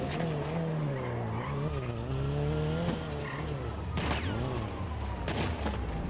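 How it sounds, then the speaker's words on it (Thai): A video-game dirt bike engine revs outside, loud and wavering in pitch, with skidding tire noise and sharp bursts like gunfire cutting in near the end. "เสียงรถวิบาก"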